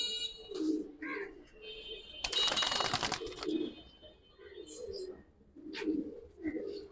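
Giribaz pigeons at a market cooing softly in short repeated phrases, with a brief loud rattling burst midway and people talking nearby.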